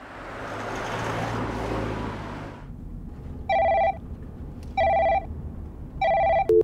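A phone rings three times in evenly spaced electronic bursts after a passing car swells and fades, with a short final tone as it is answered.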